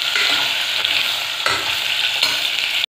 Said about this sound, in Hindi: अरवी को 2-4 मिनट हम फ्राई करेंगे।